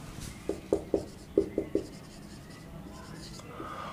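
Handwriting during a chemistry lesson on acids, bases and dilution: a quick run of about six short, crisp pen or chalk strokes in two small bursts, fairly faint over a steady room hiss.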